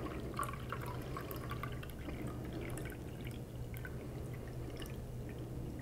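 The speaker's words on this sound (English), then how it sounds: "we're gonna go ahead and fill each of these vessels with water" Water is poured into jars one after another while preparing for wax filling, giving soft trickling and dripping sounds over a low steady hum, close and fairly quiet.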